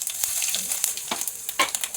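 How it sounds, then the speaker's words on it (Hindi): Whole spices (bay leaf, red chili, asafoetida and cumin) crackle and sizzle as they hit hot oil for a Pahadi-style tadka, a steady close frying hiss with sharp pops and brief stirring scrapes. "अब ये मैं इसको तड़का लगा रही हूँ, जो वो तेज पत्ते से, लाल मिर्च से, हींग, जीरे से"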